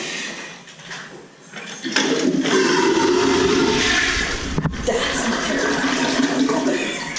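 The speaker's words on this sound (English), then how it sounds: "I encourage you to pull the chain and flush it." An old chain-pull toilet at the Hornibrook House, a bed and breakfast, flushes with a loud rushing gush that kicks in suddenly and keeps pouring steadily, close by in a bathroom.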